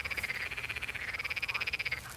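Frogs croaking in a recorded sample from Hotel Schüsselfeld: a steady, fast pulsing chorus of bright rasping croaks running continuously, close and fairly loud, with no voices.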